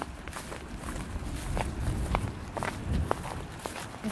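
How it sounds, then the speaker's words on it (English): Boots crunch over a layer of hail on a greenhouse floor, a close, steady walking rhythm of gritty, crackling steps, each with a brief sharp snap as the ice breaks underfoot. "I can hear the crunching under my boots."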